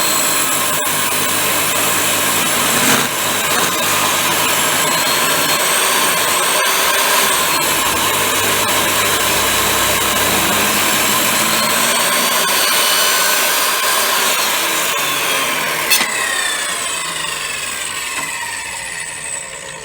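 A power saw cuts through wood to make a wooden koala toy rattle, giving a continuous loud whine with shifting pitch that runs steadily for the whole stretch.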